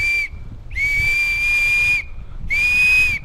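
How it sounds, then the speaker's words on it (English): A toy bubble whistle gives two loud, steady, high whistles, each lasting about a second or more, separated by short breathy pauses. A soft airy hiss runs underneath the tones. "you get a loud whistle and some small bubbles"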